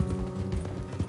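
Horse hooves clip-clop in a quick, even rhythm in the Red Dead Redemption 2 video game, moderately quiet and steady through the short moment.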